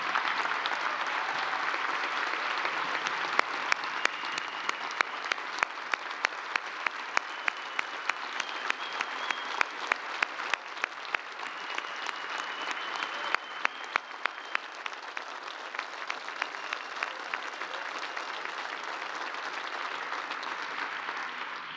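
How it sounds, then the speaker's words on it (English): Audience applause for newly selected astronauts and their families at a formal announcement event, a sustained dense wash of clapping with sharper individual claps standing out, steady and fairly loud for the full stretch. "Let's give these families another round of applause."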